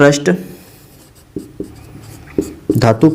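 Chalk scratching across a classroom board as a teacher writes during a Hindi physics lesson on the photoelectric effect, with short bursts of strokes between pauses and the teacher's voice heard at the start and end.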